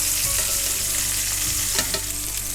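Cabbage rolls sizzle and brown in a frying pan with a loud, continuous crackling fry and a few soft scrapes, close up and with no talking.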